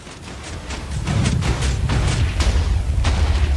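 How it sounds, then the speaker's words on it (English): TNT blasts in Minecraft rumble as a continuous, loud stream of overlapping booms, with low-end roar and repeated crackling bursts and no pauses between them. "once I get sufficiently away from the TNT, it stops doing the explosions"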